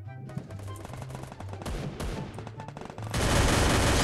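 Rapid bursts of gunfire from a weapon in the mobile battle game Garena Free Fire, with repeated shots in a quick rhythm that builds to a louder, denser burst near the end.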